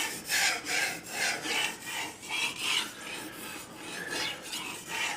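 Steady rhythmic rasping strokes of a knife blade sharpened on a 4000 grit whetstone, close and fairly loud, each pass a gritty swish in an even back-and-forth pattern with no talk.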